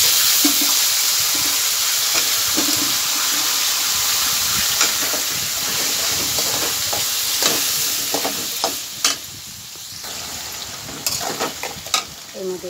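Potatoes fry in hot oil with panch phoron and bay leaf, a strong steady sizzle up close that gives way to sharper spoon-and-pan clinks and scrapes toward the end.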